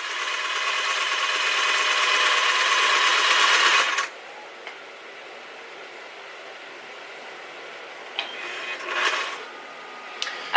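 A sewing machine stitches two parallel gathering lines for a skirt ruffle. It makes a steady, close mechanical whir for about four seconds, then stops, leaving a quiet room with a few soft handling clicks and rustles.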